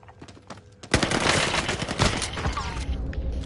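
Gunfire in a multiplayer shooter: a sharp crack followed by a dense, sustained burst of shots and rattling fire, loud and close, with a couple of later impacts trailing off.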